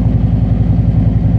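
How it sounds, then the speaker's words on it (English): A 2024 Harley-Davidson Road Glide with a Screamin Eagle Pro Street Tune idles close by, its loud, low, lumpy rumble throbbing steadily throughout. "I'll give you a walk around on her with her idling outside. Boy, she sounds loud."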